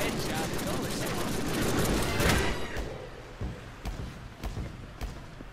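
Gunfire in the Deadpool video game: a dense roaring fusillade builds, then drops to several separate sharp shots and thuds spaced apart, with a voice speaking at points.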